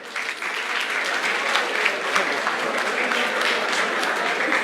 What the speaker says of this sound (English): I think a big round of applause for him.